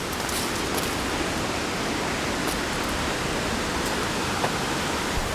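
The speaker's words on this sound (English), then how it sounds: "There's even another little creek coming into this creek." A small creek in the Mitta Valley bush, flowing into a larger creek: a close, even rush and babble of water that holds steady and fills the whole span with no talk.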